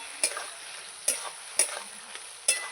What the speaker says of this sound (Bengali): আলুর সঙ্গে মশলা আমার কষানো হয়ে গেছে